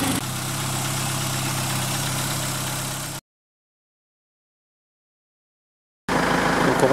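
A warm car engine idles during a product test, giving a steady, loud, low mechanical drone for about three seconds. Silence follows, then the same idle returns.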